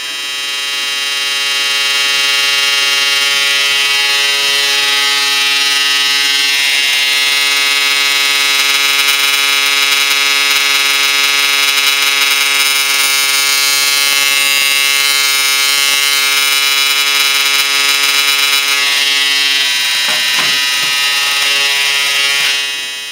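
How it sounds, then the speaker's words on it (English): A thyratron-switched Tesla coil magnifier driver pulses at 140 hertz, producing a loud, constant harsh buzzing drone that holds steadily throughout with no speech. "I got it pulsing at 140 hertz. Pulsing a Thyratron system."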